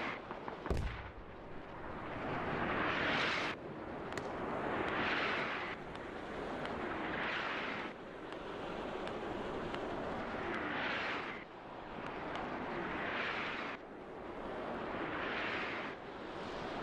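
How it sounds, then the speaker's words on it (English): Smoke barrage artillery in the military shooter Squad, heard as a sharp crack followed by a series of distant rushing, whooshing rounds and rumbling impacts swelling and fading every couple of seconds over steady background roar. "here comes in a smoke barrage, the one and only that the"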